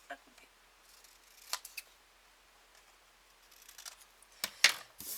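Scissors snip a paper card for a princess-themed card craft: a few faint, sparse cuts, then a sharper, louder pair of snips near the end, in a quiet room.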